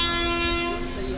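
A Madurai–Okha Special train passing a railway station near Renigunta sounds a loud, steady horn close by, with a low rumble of rolling wagons underneath.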